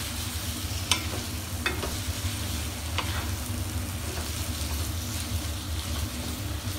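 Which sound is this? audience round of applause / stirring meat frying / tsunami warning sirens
stirring meat frying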